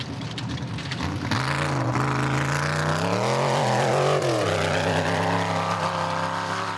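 Off-road race cars in a Class B event at Sugarbelt, engines roaring close by with rising and falling revs and gear changes as a car passes, loud and continuous with no talk.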